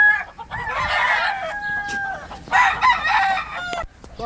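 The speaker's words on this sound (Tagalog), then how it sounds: "Ito ang paborito kong manok." A prized fighting rooster on a farm crows and clucks up close, loud bursts of harsh calls with short pauses between them.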